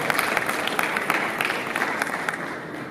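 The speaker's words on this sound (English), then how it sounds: "let's give Tyler a big round of applause." An audience at a 3D printing conference applauds, a dense, steady wash of many hands clapping that fills the hall at a constant level throughout.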